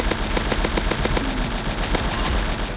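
Rapid automatic gunfire from shooting in the video game PixelGun3D: a steady stream of sharp, evenly spaced shots, loud and close, with no other sounds.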